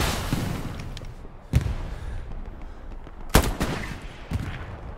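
Video game combat with a bazooka and gunfire: sharp loud blasts at irregular intervals, one especially strong, over a murky background rumble, no talk.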